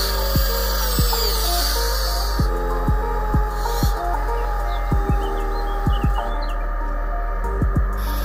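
Volvo EC160E electric excavator at work, a steady loud electric whine and hum with repeated rising and falling pitch sweeps as it moves, and faint birds in the background.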